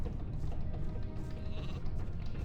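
Sheep bleating on a farm in the video game Gothic II, a loud wavering bleat over a constant dense background of game ambience, with no voices.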